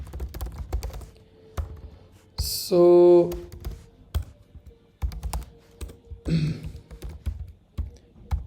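Keys clatter in quick bursts on a computer keyboard while someone enters code in a browser extension, with short beeps and a voice speaking between the keystrokes.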